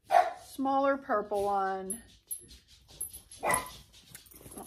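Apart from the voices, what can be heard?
small dog barking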